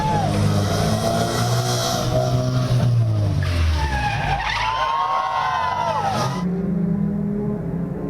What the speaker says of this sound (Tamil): சென்னையில் நடைபெறும் ஃபார்முலா 4 இரவு நேர சாலை கார் பந்தயம்.